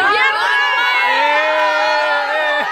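A big group of schoolchildren in India shouts and cheers together in a loud, continuous, close-up din, high voices overlapping with no pause throughout.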